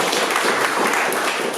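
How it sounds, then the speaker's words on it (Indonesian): An audience at a seminar with the Bismania bus enthusiast community claps for a short stretch, a dense, steady patter of many hands close by. "tepuk tangan lagi untuk Bismania"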